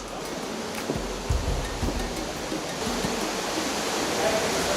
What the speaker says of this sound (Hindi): अब हम जा रहे हैं वाटरफॉल की तरफ।